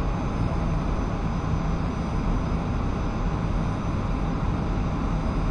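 A civilian airplane's engine drones in the DCS flight simulator, a constant, even roar with broadband hiss that holds steady and close throughout, with no talk over it.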